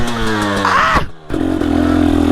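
A brand-new KTM 250 two-stroke motorcycle engine revs loud and close, its buzzing pitch climbing, cutting out for a moment, then returning to a steady high rev.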